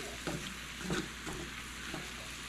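A soy sauce stir-fry sears in a pan over high heat, a faint steady sizzle broken by a few quick stirring scrapes.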